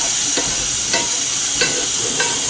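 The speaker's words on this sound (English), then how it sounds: "I'm gonna now rinse my macaroni." Cooked macaroni rinsed under running water, a steady close hiss of flowing water with a few soft clinks and shuffles as the pasta is moved.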